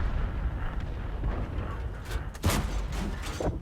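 Artillery fire and tank cannon blasts in World of Tanks rumble at moderate volume, with a sharp burst near the middle over a continuous low battle noise.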